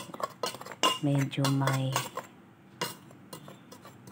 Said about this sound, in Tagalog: So, hinahalo ko para medyo magiling pa ng kaunti.